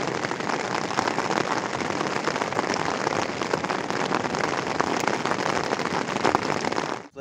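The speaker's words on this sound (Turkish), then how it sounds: "Şiddetli bir yağmur." Heavy morning rain in Gazipaşa, Turkey, pours down steadily in a dense, continuous hiss with scattered pattering drops, loud and close, fading out abruptly at the end.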